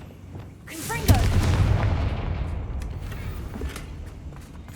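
A Confringo fire blast spell goes off in the Hogwarts Legacy video game: a sharp, loud blast hits about a second in, then a long rumbling roar slowly fades under faint game noise.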